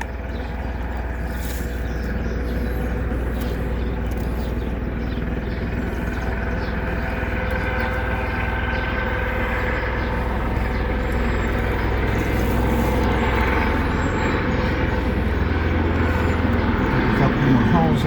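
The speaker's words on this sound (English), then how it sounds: "Excuse the helicopter noise that's going over right now." A helicopter passes overhead outdoors during garden work on raised beds, a steady broad rumble that stays loud and constant throughout.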